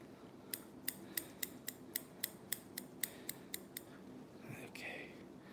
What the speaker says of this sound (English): hold the thinners at an angle and just cut all that away